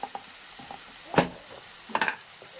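Cabbage kurma curry stirred in a pan with a spoon, giving a few scraping, sizzling strokes spaced apart in a quiet kitchen.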